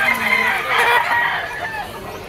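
Roosters and chickens, including a white-legged rooster, at an outdoor pet market in Malabon, with a loud close crowing call ringing out over faint market background.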